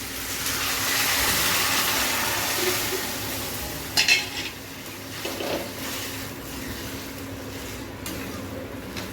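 Potatoes and dal with small fish cooking in a pan, a steady broadband sizzle with a few brief scraping stirs, close and moderately loud, no talking.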